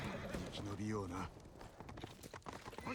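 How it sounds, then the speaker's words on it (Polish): A horse in the video game Ghost of Tsushima gives a loud whinny, then sets off with rapid, rhythmic galloping hoofbeats, close and prominent. "siadamy na konia i możemy ruszać"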